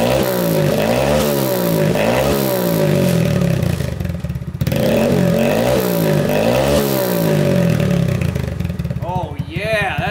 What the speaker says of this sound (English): Let's go ahead and rev it up and see what it sounds like.